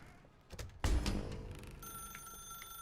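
A telephone rings in The Stanley Parable game, a sharp electronic ring starting after a thud and continuing as steady tones over a quiet room ambience, with no talk.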